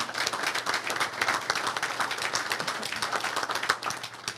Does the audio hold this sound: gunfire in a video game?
no